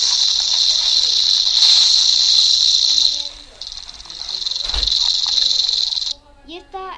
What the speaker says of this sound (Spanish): Un puercoespín, aunque suena como una cascabel.